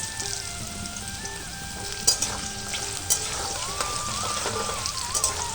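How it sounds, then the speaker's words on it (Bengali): Sliced potatoes for veg chowmein frying in hot oil, a steady close crackling sizzle with a few sharp spatters and stirring knocks, and faint background music running underneath. "তো দেখো আমাদের এখানে আলু ভাজা হচ্ছে"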